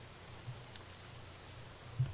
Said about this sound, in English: the constant barrage of water on my window